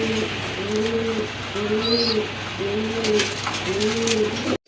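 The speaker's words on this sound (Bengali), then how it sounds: "সুন্দর একটা মাদি মাদি কবুতর, দেখেন" A large female pigeon, one of several for sale, coos in a steady repeated rhythm of about four soft, rounded phrases, close and alone with a faint background hum.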